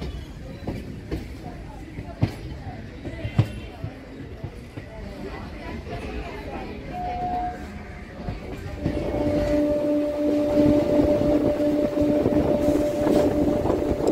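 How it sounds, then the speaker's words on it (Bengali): A Budge Budge–Naihati local train enters the Sealdah north section in Kolkata, heard from on board. A steady rumble with sharp rail clicks gives way to a louder roar and a sustained metallic whine. "শিয়ালদা নর্থ সেকশনে ঢুকছে।"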